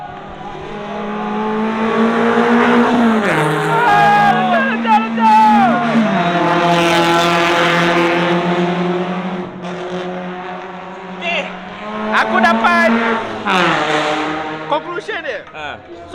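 A red race car drifting on a track revs hard, its loud engine note rising and falling through repeated gear sweeps with brief squeals. A person talks over it.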